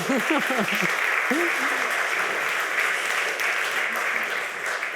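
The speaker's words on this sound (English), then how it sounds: "we need an extra applause for the translators who did really a great job" An audience at a hedge management presentation applauds the translators, a steady wash of clapping from start to finish, with a voice speaking briefly over the opening and again around the middle.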